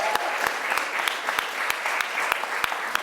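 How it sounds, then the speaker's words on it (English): An audience at a poetry event applauds, a steady, fairly loud burst of clapping with a few sharp individual claps standing out at an even pace. "let's give her a big round of applause again."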